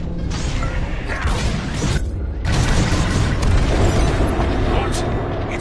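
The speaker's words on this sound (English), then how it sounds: "On my mark, it's bombs away." Star Wars Squadrons starfighter bombing run: loud, continuous rumbling booms and mechanical roar from bombs exploding, with a short dip before more dense blasts, with voices talking over them.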